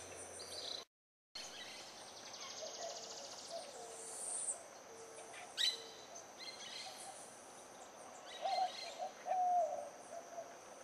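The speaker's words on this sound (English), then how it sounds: "Listen to the sound of the birds." Outdoor ambience in Puerto Rico's western coastal valley near pastures, with scattered bird calls, soft hoots and chirps, at moderate distance over a faint steady hum of insects.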